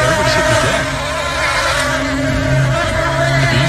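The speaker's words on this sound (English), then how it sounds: "The bees again." Dense, continuous buzzing of a bee swarm on a baseball field, a loud droning hum with shifting pitches throughout.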